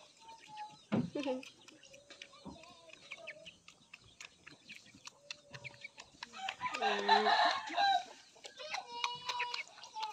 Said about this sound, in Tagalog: Oh, may manok yan.